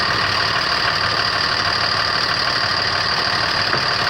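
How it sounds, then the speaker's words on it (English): A school bus diesel engine idles with the hood open, giving a steady, even mechanical drone that stays loud and unchanging from start to finish. "Listen to that diesel purr. Sounds like a good motor."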